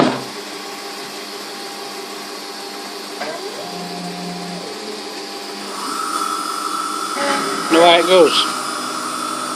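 Emco F1 CNC milling machine drilling a model engine backplate with a 3.3 mm drill and coolant mist inside the closed enclosure: a steady motor whine with a rising spindle tone, then brief higher cutting squeals near the end, after a short spoken line.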